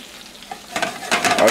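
Potsticker dumplings frying in a pan, a steady close sizzle that grows louder and crackles more toward the end, with no voices.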